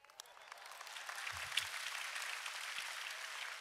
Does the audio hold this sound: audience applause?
yes